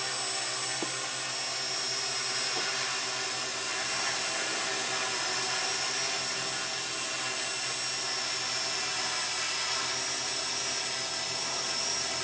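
Walkera QR X800 drone flying on its first flight: a continuous, steady high-pitched rotor whine and buzz, loud and close throughout with little variation.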